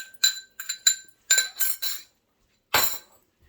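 Spoon clinks against a glass or ceramic bowl while cranberry sauce ingredients with canned pineapple are stirred, a series of short bright taps in small clusters followed by one final louder clink.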